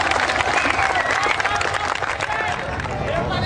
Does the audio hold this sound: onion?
no